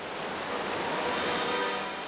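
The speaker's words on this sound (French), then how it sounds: "L'un de vous sait d'où vient ce bruit d'eau qui gronde?" A waterfall roars in a steady, dense rush of water with no breaks, a broad continuous noise that fills the whole moment.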